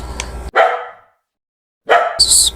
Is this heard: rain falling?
no